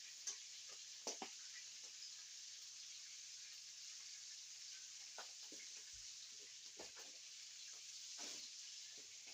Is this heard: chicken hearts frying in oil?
yes